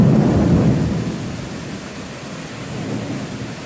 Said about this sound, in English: There's the rain. There's the storm.